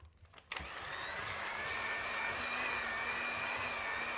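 Electric hand mixer beating cream cheese and butter together in a bowl for carrot cake icing, a steady motor whine running continuously after a short clatter at the start.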